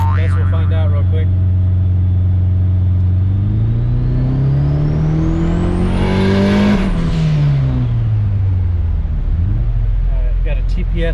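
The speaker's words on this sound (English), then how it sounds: "rev it up to 5-6 grand, and then we'll activate VTEC and see what we're up against" A turbocharged H22 engine in a Honda Prelude revs steadily upward into VTEC, the tone climbing to a high, loud peak before falling back to idle, with a voice heard over it.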